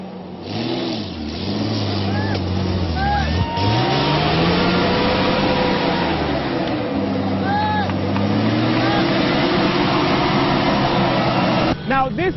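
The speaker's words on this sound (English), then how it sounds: "this was the first time that they had seen such cars breaking the silence of this quiet valley" Rally cars on a gauntlet stage in a quiet remote valley, engines revving and rising in pitch as they accelerate past, loud and sustained throughout, with a narrator talking over them.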